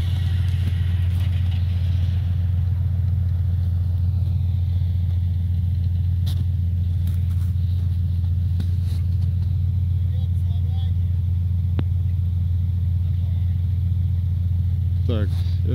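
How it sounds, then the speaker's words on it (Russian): Engines of BM-21 Grad rocket launcher vehicles idle while warming up at a base in Luhansk region, a steady loud low rumble that fills the whole stretch, with faint clicks and noises on top. "Уже греем машины, должны с минуту на минуту выезжать."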